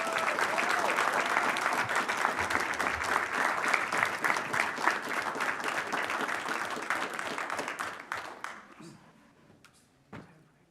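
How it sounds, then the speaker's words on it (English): A big round of applause for players and coaches at a school board meeting, steady and full before tapering off into scattered claps and quiet, with voices underneath. "Let's give a big round of applause for our players and coaches."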